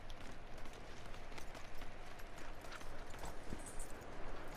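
A horse gallops in Red Dead Redemption 2, its hooves drumming in a steady, continuous rhythm close by with no talk over it.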